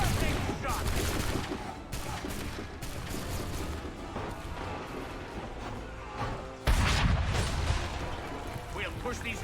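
Dense gunfire from muskets and cannon during a Revolutionary War battle against redcoats in Assassin's Creed III Remastered, with continuous overlapping shots and booms and a heavy blast near the end, while voices talk over the fighting.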